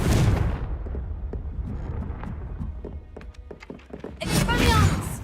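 A Confringo fire spell bursts in Hogwarts Legacy with a loud whooshing blast, then a stretch of scattered thuds and cracks, and a second heavy fiery burst near the end.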